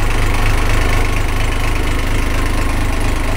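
A boat engine idling loud and close, a steady low rumbling throb with a regular knocking pulse that holds even throughout, no talking.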